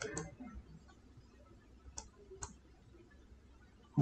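Soft, crisp computer mouse clicks in a quiet room, a few isolated single clicks spaced irregularly over four seconds, close but faint, with no talk.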